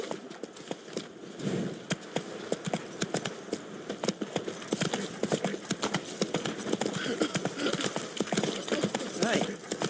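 Roach, a horse in the video game The Witcher 3, gallops at a steady pace with rapid, loud hoofbeats that run the whole time against an outdoor game backdrop.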